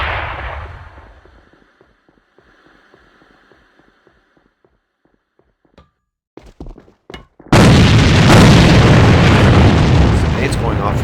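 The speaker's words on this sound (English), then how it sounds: "Some nades going off as XSlice gets hit by one of them." Grenades explode in the shooter game AVA during a tournament match: a fading blast at the start, scattered sharp thuds and pops, then a loud, sustained burst of noise to the end.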